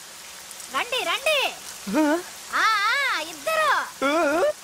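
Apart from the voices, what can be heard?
rain falling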